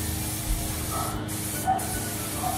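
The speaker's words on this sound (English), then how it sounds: "add some cooking spray to my pan." Olive oil cooking spray hissing onto a pan, a short steady spray burst close by with no talk.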